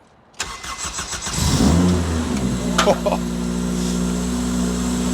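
A modified Honda Jazz engine cranks, fires up and revs loudly through its new exhaust, rising and falling before holding a deep, rumbling idle.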